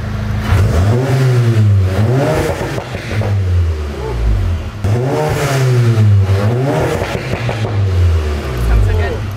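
An MK7 fitted with a new Armytrix exhaust revs hard and close, the engine note climbing and falling in repeated surges, with voices talking over it.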